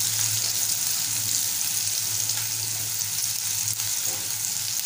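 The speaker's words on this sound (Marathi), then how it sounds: "कांदा नरम होईपर्यंत आपल्याला परतवायचा आहे।" Onion sautéing in a pan until soft for red chavali bhaji, a continuous dense sizzle with faint stirring, close and even, with no voices.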